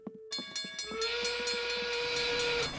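In an animated Curious George cartoon, a steam train rolls into a station with rhythmic chuffing, then a long sustained whistle sounds over the clatter of the wheels.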